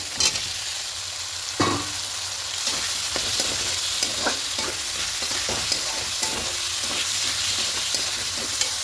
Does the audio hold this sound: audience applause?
no